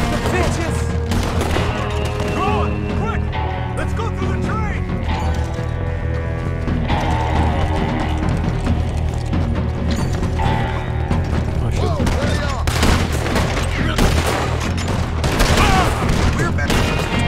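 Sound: gunfire in the video game Red Dead Redemption 2

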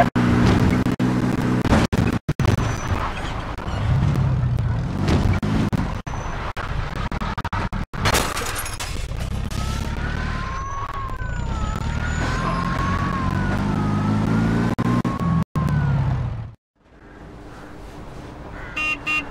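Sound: police pursuit of a speeding car in Mafia 2 video game

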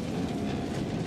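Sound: subway train rumbling past in movie National Treasure

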